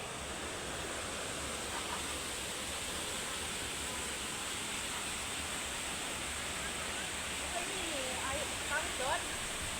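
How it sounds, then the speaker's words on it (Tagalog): River flowing out of a tunnel, a steady broad rushing of water heard close and fairly loud, with faint voices talking over it. "Ilog siya na galing sa tunnel."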